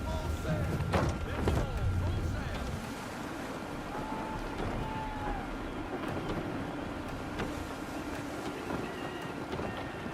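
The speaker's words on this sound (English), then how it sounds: "Gusty winds can be difficult to manage" Gusty wind at sea in Assassin's Creed III blows as a steady, full roar with a wash of waves and creaking ship noise, loud and continuous, with a low rumble early on.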